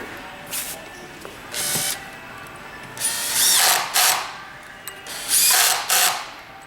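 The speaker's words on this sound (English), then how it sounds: "You can also tighten the rear screws" Allen wrench tightening the rear screws on a Perfect Chair recliner frame, several short bursts of ratcheting clicks separated by pauses, close and fairly clear with no voices.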